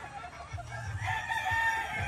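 Roundhead pullet chickens cluck in short bursts close by while a rooster crows in the background, fairly faint overall.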